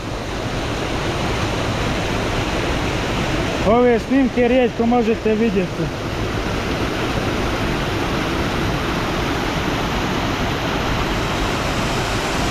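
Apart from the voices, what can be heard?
small waterfall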